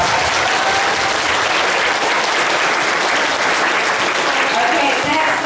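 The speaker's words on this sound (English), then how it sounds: "give her a round of applause" Loud, continuous crowd applause at a jump rope team performance at a school, dense and unbroken for several seconds, with voices and cheering mixed into the clapping.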